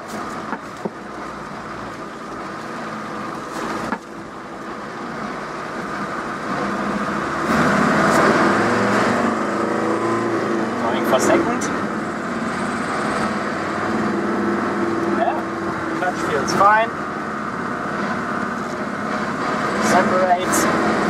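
A 1986 Mercedes T1 Bremer 209D diesel van pulls away in first gear after a clutch repair, with a continuous mid-level engine drone, road rumble and occasional clicks, and a voice at times over it.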